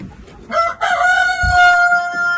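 A rooster crows loudly and close, a long drawn-out call, with brief clucking from chickens around it.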